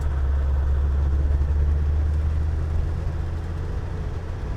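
A 1998 Land Rover Defender 110 Td5 diesel engine runs steadily in third gear with a deep, even drone heard from inside the cab, smooth and continuous.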